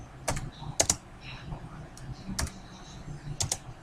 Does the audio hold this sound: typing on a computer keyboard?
yes